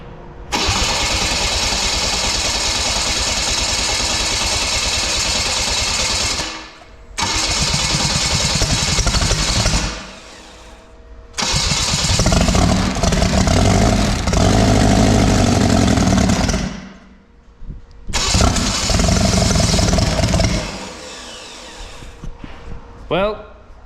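A Chevy four-cylinder engine being revived cranks and fires, then runs loud and rough on choke in several long stretches broken by brief drops and pauses, the roar surging and cutting out as it stalls.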